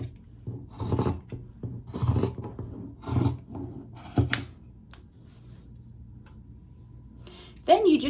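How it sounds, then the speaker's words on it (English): Scissors cut through the hem of a men's cotton t-shirt in a series of close, crisp snips, roughly one per second, followed by a quieter pause and a soft rustle at the end. "start by cutting off the hemmed part of the t-shirt"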